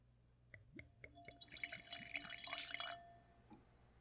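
Sake pours into a wine glass, a few soft drips first, then a brief gurgling, splashing stream that trails off into a last drop or two, close and quiet.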